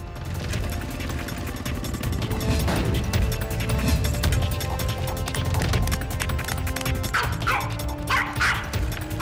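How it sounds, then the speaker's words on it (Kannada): A dog barks and yelps in distress, sharp repeated yips and whimpers loud and close, with a crash-like clatter mixed in near the end. "ಇದು ನಮ್ಮ ಡಾಗ್ಯ ಶಬ್ದ ಯುಡಿ."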